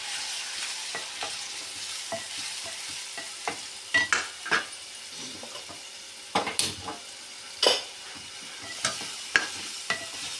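Masala sizzles in oil in a pan for a Telugu fish gravy curry, with a soft frying hiss under repeated irregular stirring scrapes and knocks of a spoon, several sharper clatters spaced through, close and without talking.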